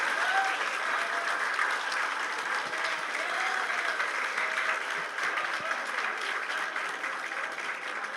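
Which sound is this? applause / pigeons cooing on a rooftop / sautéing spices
applause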